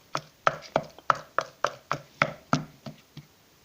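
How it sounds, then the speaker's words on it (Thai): Rhythmic pounding of a pestle in a mortar, crushing Thai yellow curry paste, about a dozen dull thuds at a steady pace, close and moderately quiet, no voices. "แล้วโขลกเลยครับเพื่อนๆจ๋า นำไปโขลกเลยนะครับ"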